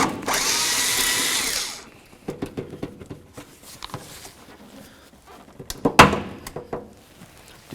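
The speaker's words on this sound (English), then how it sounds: "we're gonna remove this screw and this screw right here. And to do that, you're going to use your T30 Torx bit" A power driver with a T30 Torx bit whirs for about two seconds backing out screws on a 2009–2016 Mercedes-Benz E350 headlight, followed by clicks, taps and a louder knock of parts being handled.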